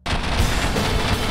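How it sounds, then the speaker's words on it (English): Heavy gunfire in a combat scene from a military video game, a dense, loud burst of shots and booms filling the whole moment without pauses. "That's gunfire!"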